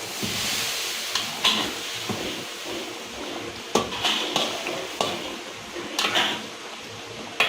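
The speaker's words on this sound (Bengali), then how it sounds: "ডিম সিদ্ধ করে হালকা করে একটু ভাজি করে নেবেন।" Boiled eggs stirred and lightly fried in a pan, with soft continuous sizzling and hiss under sharp scraping clicks of a utensil against the pan at irregular intervals.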